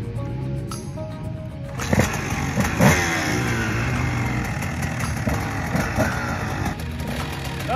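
A motocross bike with electric start coughs into life and revs, a steady mid-pitched engine drone with a couple of throttle bursts, running continuously and fairly close.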